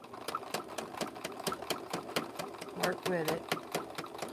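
A sewing machine stitches a rope handbag in rapid, evenly spaced mechanical bursts, close and clattering, while a person talks briefly over it.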